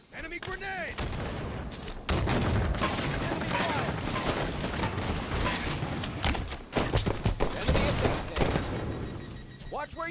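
Dense, continuous gunfire fills a Halo 5 multiplayer match, with rapid bursts, explosions and mechanical clatter running loud throughout and game voices mixed in.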